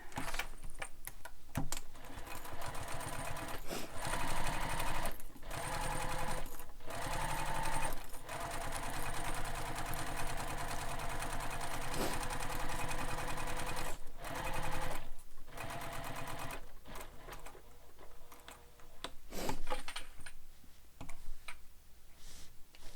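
A sewing machine stitches down the short edge of a Jack Sling Pack, a fast, steady mechanical whir with clicking, nearby and continuous, broken by a few short pauses and restarts.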